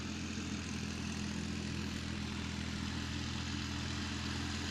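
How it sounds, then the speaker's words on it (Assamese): A powerful tractor engine drones steadily in a muddy field, a constant low hum at moderate distance that neither rises nor falls, with no one talking. "যথেষ্ট এখন শক্তিশালী ট্ৰেক্টৰ যেন পাইছোঁ দেই।"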